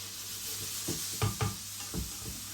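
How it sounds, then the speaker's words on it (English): Onions fry in a pan with a steady background sizzle, broken by a few distinct stirring scrapes and knocks; no voices. "we just want to fry this off until basically the onions start to go transparent and soft"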